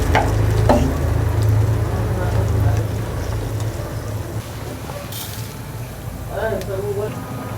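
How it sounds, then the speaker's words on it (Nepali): Potato curry broth comes to a boil in a pan, with a steady bubbling sizzle that is loud and continuous and has a few clinks and stirring sounds. "उम्लिन पनि लागेको छ।"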